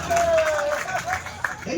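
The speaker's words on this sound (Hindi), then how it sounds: "एक बार इनके लिए, मनीष जी के लिए भी ताली बजा" An audience applauding at a patriotic gathering held by the bar association on the Udaipur court premises; a brief burst of rhythmic clapping from a crowd, heard under someone speaking.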